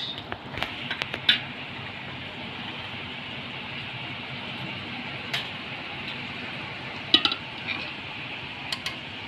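Food is dished out at home during a lunch routine, with scattered sharp clinks of utensils against pots and plates. They come in short clusters over a constant low fan-like hum.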